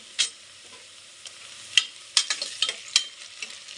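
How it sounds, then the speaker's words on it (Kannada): Onions and green chilies frying in a pan for Muslim-style chicken biryani, a soft sizzle broken by several sharp stirring scrapes and clinks, close and quiet with no talking. "ಈರುಳ್ಳಿ ಎಲ್ಲ ಚೆನ್ನಾಗಿ ಫ್ರೈ ಆಗಿದೆ"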